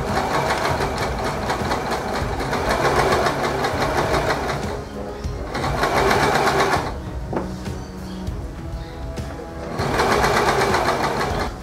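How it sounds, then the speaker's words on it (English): A sewing machine stitches fabric for a medieval-style flag in close, rapid bursts of rattling needle action, stopping and restarting several times with short pauses between runs. "let's get a bit more sewing done"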